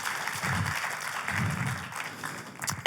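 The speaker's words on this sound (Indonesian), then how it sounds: "tepuk tangan yang terbaik bagi Yesus Tuhan" Audience applause during a church service, a moderately loud, sustained wash of clapping from a congregation that swells and eases over a few seconds.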